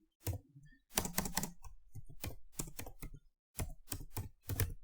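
Fingers type an LCD message on a computer keyboard, sharp key clicks coming in quick irregular bursts with short pauses between words, close and clear with no talking.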